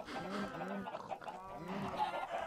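Chickens cluck in Minecraft's game farm, a few short, nasal bursts of clucking that sound close and fairly loud, with no other sound around them.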